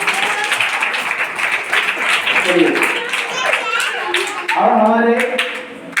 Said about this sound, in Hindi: इसके लिए भी एक ताली बजा दो भाई।